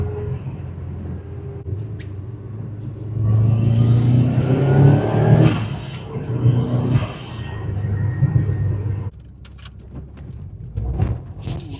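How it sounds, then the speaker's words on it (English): A modified Subaru WRX pulls hard from inside the cabin, engine drone rising in pitch with a whistling turbo spool building over it before the revs drop away. "the turbo spools fast, and it goes"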